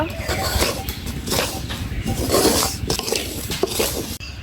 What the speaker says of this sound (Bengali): ভালো করে সুজিটা ভেজে নেব।